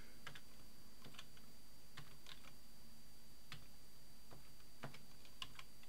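A password is typed on a computer keyboard in short bursts of light, close key clicks separated by pauses, over a quiet steady background hum.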